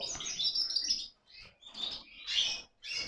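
A white competition cage bird chirps close by in a series of bright, rapid trilled phrases separated by brief pauses, loud and clear with no talk over it.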